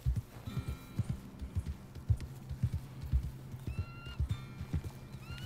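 Horse hooves clip-clop at a steady rhythm while riding in Red Dead Redemption 2, fairly close, with a brief whinny partway through.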